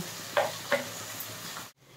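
Tomato frying with green chilli paste in a pan gives a soft, low sizzle with two brief scraping stirs early on, quiet and close before cutting off near the end.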